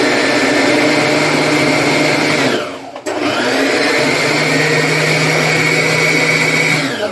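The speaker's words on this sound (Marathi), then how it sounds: "तर आपण आता फूड प्रोसेसरमध्ये चिरूया." Onions chopped in an electric food processor: a loud, close motor whine runs for a few seconds, dips briefly as the machine pauses, then starts again in a second steady run.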